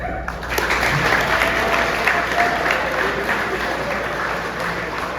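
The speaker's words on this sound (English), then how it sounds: "So round of applause." Guests at a boys' academy soccer team banquet applaud the under-17 squad, a steady wash of clapping from a room of people, with a faint voice or two and a dog yapping somewhere underneath.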